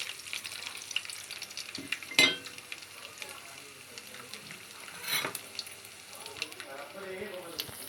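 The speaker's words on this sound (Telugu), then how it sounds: "మళ్ళీ అదే ప్యాన్లో ఆయిల్ పోసుకొని ఇవి ఆవాలు, మెంతులు, జీలకర్ర, కొంచెం మినప్పప్పు, వెల్లుల్లి అన్నీ" Mustard seeds, fenugreek, cumin, urad dal and garlic frying in oil in a pan for a tempering, a steady low sizzle with occasional stirring clatters and a louder clank near the middle.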